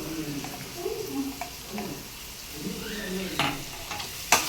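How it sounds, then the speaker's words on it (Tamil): Onion with ginger garlic paste sautéing and being stirred in a pan, a soft steady sizzle with scraping stirs, a brief sharper clatter near the end. "நல்லா வெங்காயத்தை வதக்கிக்கலாம்."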